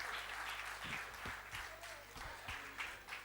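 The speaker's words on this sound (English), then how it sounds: "Give him a huge round of applause" An audience applauds at a book launch, with sustained, even clapping from a sizeable crowd, a few louder individual claps standing out, and faint voices underneath.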